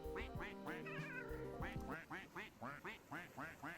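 Duck-shoe footsteps in the video game Mow Meow produce a rapid string of cartoonish quacks, evenly paced, following a brief jumble of game tones and chimes at the start.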